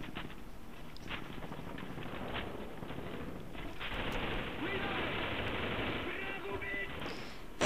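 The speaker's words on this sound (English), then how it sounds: "Okay, now a couple of shots coming." Gunfire in the shooter video game Modern Warfare Reflex with an M16 and a SAW: a steady stream of faint, rapid shots and scattered bursts under a constant background wash, with a voice talking over it.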